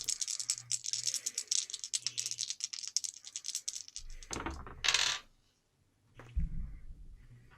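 Dice clatter and rattle in a tabletop roleplaying game, a long run of rapid clicking tumbles followed by a couple of louder, closer rolls with a brief pause between.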